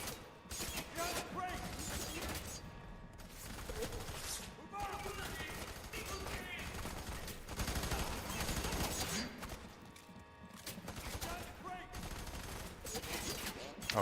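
In the video game Pet Simulator 99, rapid gunfire bursts and fusillades repeat throughout, loud and dense, mixed with shouting voices.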